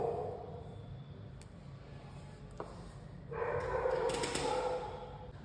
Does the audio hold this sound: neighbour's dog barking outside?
yes